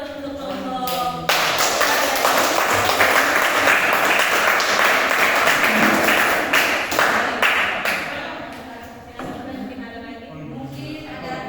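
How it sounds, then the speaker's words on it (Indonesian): A classroom group applauds with a dense burst of clapping that swells and holds for several seconds, then thins out into scattered claps and room murmur. "Mari kita beri aplaus untuk kelompok."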